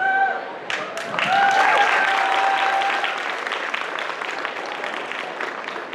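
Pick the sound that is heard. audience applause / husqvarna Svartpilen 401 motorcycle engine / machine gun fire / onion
audience applause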